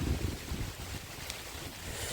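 Steady wind rushes and buffets outdoors on a hilltop in the morning, a broad low roar with some rumbling gusts at the start, no voices.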